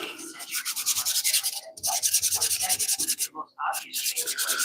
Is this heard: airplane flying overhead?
no